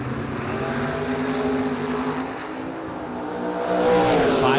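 Drag racing cars roar through a bracket race run at the Octoberfast Bracket Nationals, a loud sustained engine drone with layered revving that swells louder near the end.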